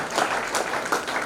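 An audience in a hall applauding in welcome at a Rajyog meditation camp in Amravati, steady close clapping from a crowd of many hands, lasting briefly.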